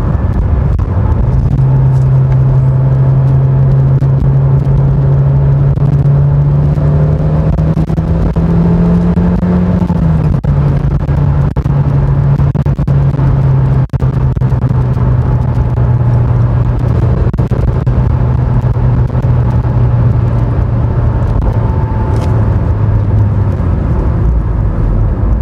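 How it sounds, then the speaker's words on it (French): Peugeot 406 coupé with a 2.0 16v 137 hp petrol engine pulling while driving, a loud sustained drone that climbs in pitch as revs rise, dips at a gear change, then builds again and fades at the end. "on sent que la mécanique se réveille et se sent plus à l'aise dans les tours qu'à bas régime"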